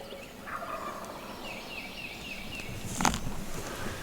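A wild turkey gobbles once, loud and fairly close, a sharp rattling burst midway through, with faint bird calls and soft outdoor ambience around it.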